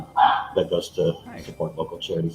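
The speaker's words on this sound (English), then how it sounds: "And you can hear my dog Wicked, I think, in the background." A pet pug named Wicked barks in the background in short repeated yaps, sitting under a man's steady, clearly audible talking.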